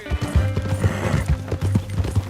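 Horse hooves clip-clopping in Red Dead Redemption 2, a steady close rhythm of hoofbeats over a low droning game background.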